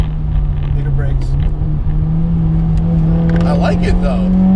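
A modified 2015 Subaru WRX pulls hard, its engine note climbing steadily and loudly from inside the cabin while someone talks over the rising drone.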